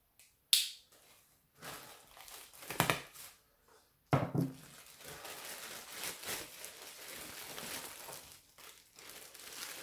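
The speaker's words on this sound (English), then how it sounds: "Uh, let's cut it open a little bit." A plastic grow bag holding lion's mane mushroom being cut open, with close crinkling and rustling plastic, a few sharp snips and crackles, and then continuous handling noise, with no speech.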